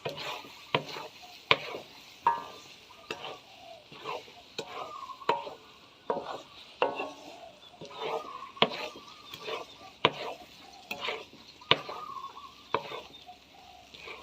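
Sticky rice cooked with coconut milk in a wok over low heat is stirred steadily, giving rhythmic thick scrapes and soft slaps about once a second along with a faint sizzle, close and fairly quiet.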